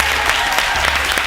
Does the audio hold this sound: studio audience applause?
yes